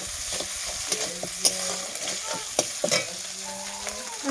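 Garlic and ginger paste frying in a pan, a steady close sizzle with occasional sharp scrapes and clinks of a spoon stirring through it, no talking.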